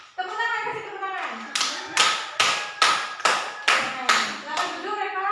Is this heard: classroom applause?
yes